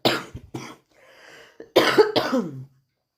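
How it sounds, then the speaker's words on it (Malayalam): Several harsh coughs close to the listener, in two pairs with a short breathy pause between them. "ഇടയ്ക്ക് അറിയാതെ ചുമച്ച് പോവാണ് കേട്ടോ നമുക്ക് ചുമ വന്നിട്ട് പിടിച്ച് നിർത്താൻ പറ്റില്ല"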